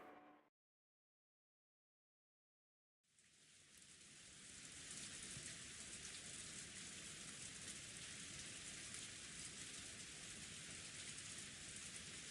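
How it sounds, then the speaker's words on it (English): Rain beating on a window in the visual novel Umineko, after a brief cut to silence: a steady, dense hiss of falling rain that stays even and fairly loud to the end. "Enzo noticed the sounds of raindrops beating on the window. It had finally started to rain."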